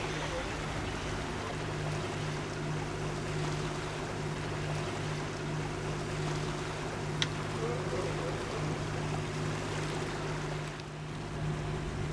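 A boat engine drones steadily and low throughout, with water washing faintly around it and a single brief tick partway through.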